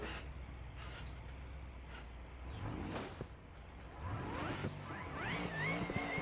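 A car engine in the game BeamNG or Project CARS with automatic transmission revs and accelerates, rising in pitch with a rough exhaust note, fairly quiet overall.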